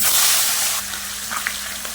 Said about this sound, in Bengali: মাছের মাথা ভাজার জন্য কড়াইতে তেল দিয়ে দেবো।